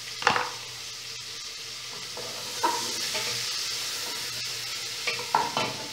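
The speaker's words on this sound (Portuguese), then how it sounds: "Agora, eu vou fritar a cebola e o alho." Onion and garlic frying in a pan after sausage and bacon, a soft steady sizzle with a few louder scrapes and stirring clatters of a utensil against the pan.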